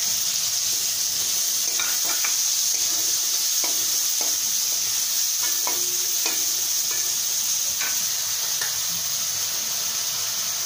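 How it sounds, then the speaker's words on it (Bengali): Prawns and onion sizzle steadily in a hot pan, a continuous close frying hiss broken by scraping clicks of a spatula stirring, with no talking. "পেঁয়াজটা একটু নেড়ে চেড়ে দিয়ে দিলাম চিংড়ি মাছ।"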